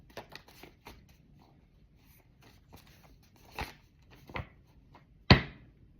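Playing cards are shuffled in short, light riffling bursts, close and fairly quiet, with a few sharper snaps toward the end and no talk.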